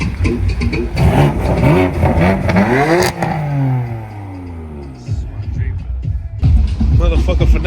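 A car engine revs at an outdoor car show, rising and falling in pitch with a long sweep, mixed with crowd chatter and people talking nearby.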